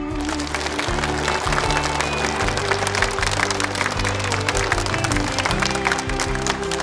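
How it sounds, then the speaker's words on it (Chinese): An audience at an international university debate final applauds as the competing teams are welcomed. The clapping is loud, dense and sustained for several seconds, with a low steady hum underneath. "用热烈的掌声欢迎他们的到来"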